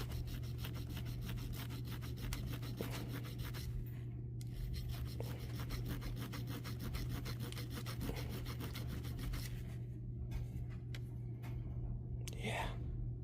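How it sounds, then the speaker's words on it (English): A file rasps steadily against a brass part from an HO-scale 0-10-0 model locomotive being rebuilt, with continuous close scraping strokes and a soft voice under it. "or file it down."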